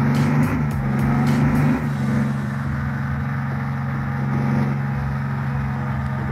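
A car driven in Bus Simulator Indonesia gives a steady, loud engine drone with low harmonic hum, shifting slightly in pitch after the first two seconds, with no talk over it.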